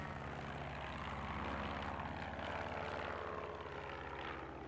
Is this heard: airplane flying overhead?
yes